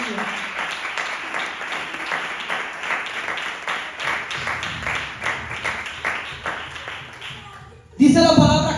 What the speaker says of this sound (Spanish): Un fuerte aplauso para el Señor, por favor, iglesia.